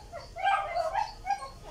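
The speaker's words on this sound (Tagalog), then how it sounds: "maingay ang aso." Husky dog barking and yelping in a short burst of a few close calls, moderately loud with no talk.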